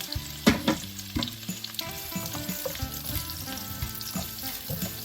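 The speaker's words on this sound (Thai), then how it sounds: "ใส่กระเทียมหอมแดงลงไปผัดค่ะ" Loud, steady sizzling of garlic and shallots frying in a hot pan, with crackling pops and occasional clinks of a utensil stirring, no voices.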